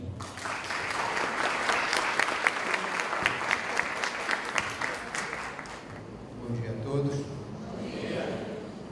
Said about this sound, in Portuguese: Com nossos aplausos, vamos receber o senhor Nildo Ferreira.